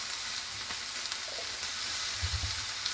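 Garlic paste, chopped tomato and fresh chili fry together in a hot pan, giving a steady close sizzle with a few low thumps of stirring near the end.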